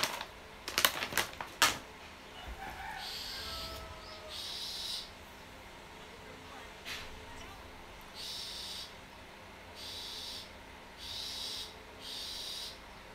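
A noisy bird repeats a series of short, similar calls at a steady pace, moderately loud, after some sharp clicks and clatter near the start.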